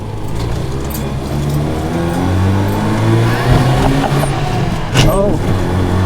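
A Mazda Cosmo sports car's engine drones steadily from inside the cabin while driving, with the pitch climbing gradually and brief bumps near the end, as people talk over it.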